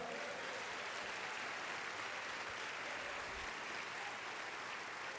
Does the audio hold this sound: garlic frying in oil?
no